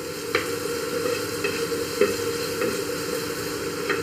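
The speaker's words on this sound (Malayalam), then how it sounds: "ഇതും ചേർത്തൊന്ന് വഴറ്റാം" Chicken being sautéed with turmeric and coriander powder for a Kerala-style chicken thoran, a steady close sizzle with several sharp scraping stir strokes of a spoon against the pan, no talking.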